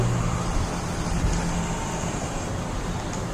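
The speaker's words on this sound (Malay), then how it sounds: "oh kereta" A car rumbles past in a FNAF horror game, a steady low road roar that holds level and eases slightly toward the end, heard alone without talk.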